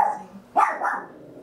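A single sharp bark from a neighbour's dog, sudden and fairly loud, trailing into a brief rough growl, heard after a faint murmur and then fading to quiet.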